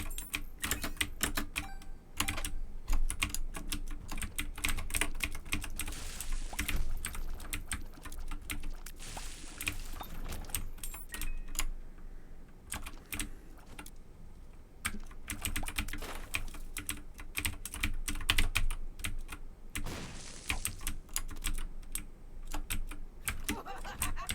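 Computer keyboard typing runs in rapid, uneven bursts of clicks with short pauses, close and clear over faint game ambience, with no talk.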